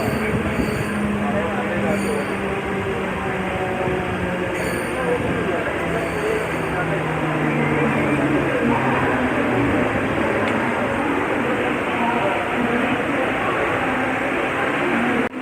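A Navi Mumbai suburban local train rolls into Gavhan station with a steady, continuous rumble of wheels and carriage noise, low tones drifting as it slows, while a voice talks faintly over the ride.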